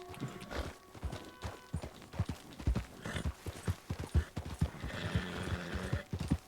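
A horse gallops in Red Dead Redemption 2 with rapid, uneven clip-clop hoofbeats, and a sharp whinny breaks in partway through, all fairly quiet and close.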